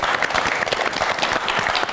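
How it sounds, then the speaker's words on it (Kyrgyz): A studio audience on a Kyrgyz television show claps hard and fast in a lively burst, the crowd noise packed and close throughout. "Биз ушун үчүн сизге бир катуураак кол чаап коелу."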